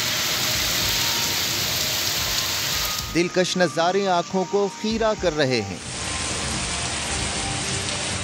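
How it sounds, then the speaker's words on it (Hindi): Rain falling in the hill country around Abbottabad, Nathia Gali and Ayubia, a dense steady hiss that drops away while someone speaks in the middle, then returns just as heavy. "एबटाबाद, नथिया गली, अयूबिया, ठंडियानी और इर्द गिर्द के इलाकों में वक्फे से मेघा बरस रही है।"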